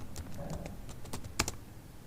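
Keys on a computer keyboard tapped to enter a block name in electrical CAD software, a quick irregular run of close, crisp clicks with one sharper strike near the end, no talking.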